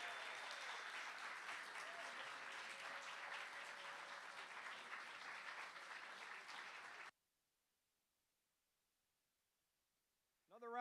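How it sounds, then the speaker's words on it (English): An audience at a family folk music showcase applauds after a performance, a broad wash of clapping that runs for about seven seconds and then stops dead, followed by silence and a brief voice at the very end. "Another round of applause"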